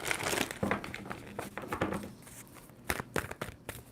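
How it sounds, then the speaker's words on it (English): Tarot cards are shuffled by hand in close, papery rustles and crinkly slides, with a couple of sharper snaps near the end, quiet and without talk. "2 more shuffles for Capricorn."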